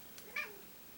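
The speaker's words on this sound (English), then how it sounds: "You gotta meow in every video, huh?" A house cat gives one short, faint meow, a brief high cry indoors against quiet room tone.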